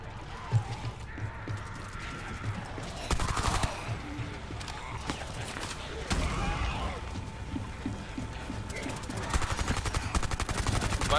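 Gunfire in Rainbow Six Siege Outbreak, with scattered shots and rapid bursts of sharp cracks amid game noise, growing denser toward the end, and a voice talking at times.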